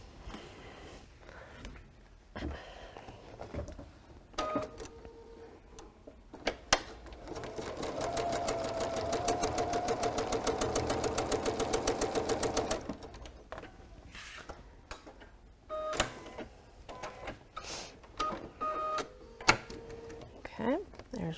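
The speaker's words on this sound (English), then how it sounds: "we're going to go sew. Okay, 1/4 inch seam." Sewing machine stitching a quarter-inch seam on quilt fabric, a steady rapid run of needle strokes lasting several seconds in the middle, with shorter bursts and handling noises before and after, close and fairly loud.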